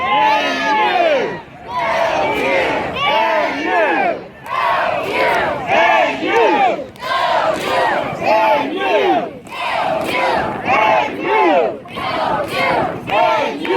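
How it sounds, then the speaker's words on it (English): Northwestern football fans at an Outback Bowl beach day on Clearwater Beach shout a call-and-response chant, a big crowd roaring in loud repeated bursts with short pauses between each call and answer. "I don't think I've ever heard Northwestern fans cheer so well or so loud."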